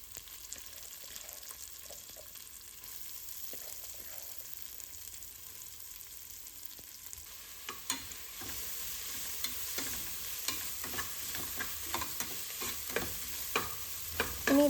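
Ginger, garlic, green chilli and chopped onion sauté in a pressure cooker for prawn biryani, a steady sizzle overlaid by scraping stirs that grow busier and louder in the second half.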